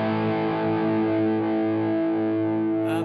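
Electric guitar played through a Two Notes Wall of Sound cabinet simulator, a steady distorted sustained chord ringing loud and full for about three seconds, alone with no talking, slightly thin in the low end.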